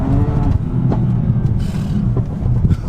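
A BMW F80 M3 Competition engine drones and rumbles under acceleration from inside the car, a steady low growl with a few brief sharp clicks and knocks over it.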